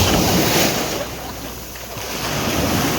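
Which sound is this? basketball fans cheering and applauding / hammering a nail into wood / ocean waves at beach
ocean waves at beach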